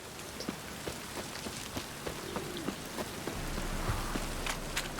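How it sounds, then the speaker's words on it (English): Steady rain conjured by witches in a video game, a continuous close patter of drops hitting a surface, with no talk over it. "Witches have conjured rain"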